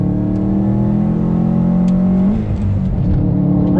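A Subaru WRX STI with all-wheel drive pulls hard under throttle, its engine droning loudly with a rising tone, then easing briefly before resuming, heard close from inside the car with no talking.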